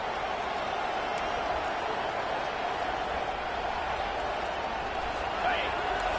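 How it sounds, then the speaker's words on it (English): A football stadium crowd roars for the defense on third down, a dense, steady wall of noise that swells slightly near the end while a commentator talks over it. "Decibels rising as the crowd gets behind this defense on third down"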